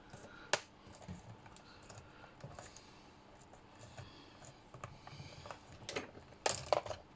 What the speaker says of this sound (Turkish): Ben klavye deneyeceğim bu arada.